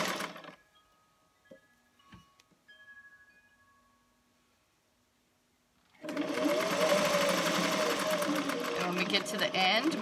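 A sewing machine stitches a burgundy skirt repair, first giving a few faint ticks and clicks, then whirring loud and continuous for several seconds, close to the listener.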